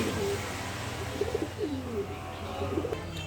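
Pigeons coo nearby in soft repeated rolling calls over a low background hum.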